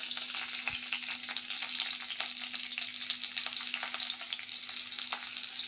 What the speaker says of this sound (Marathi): तूप गरम झालेलं आहे, त्यामध्ये आता मी बारीक चिरलेली हिरवी मिरची घालते।